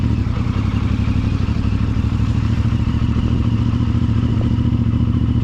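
A CFmoto 450MT motorcycle being ridden produces a steady, loud mid-pitched engine drone with a constant low rumble and light mechanical clatter, with no speech over it.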